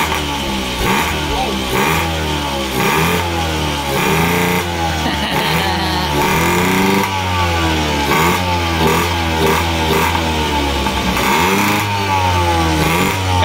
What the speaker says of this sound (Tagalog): Malakas yung motor na yan, Gol.